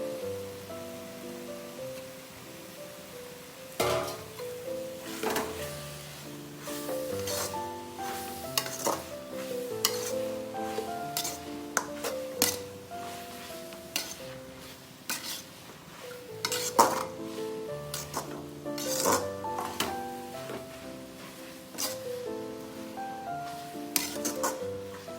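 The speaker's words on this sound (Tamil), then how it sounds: "இப்போது இந்த கொத்தமல்லி தழையை போட்டு ஒரு பரட்டு பரட்டி நிறுத்திடலாம்." Gongura greens with coriander leaves are stirred in a pan, with repeated metallic scraping and clattering over a soft continuous sizzle and some ringing tonal sounds, fairly close and steady throughout, with no talking.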